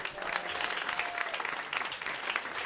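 Steady audience applause at a regenerative food systems panel, a dense, even wash of many hands clapping without a break.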